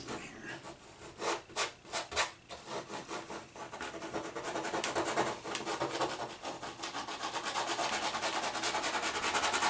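Paintbrush scrubbing paint into a durable canvas for a mountain landscape, rhythmic close rubbing strokes, a few distinct swipes at first and then continuous brisk scrubbing, with no voices.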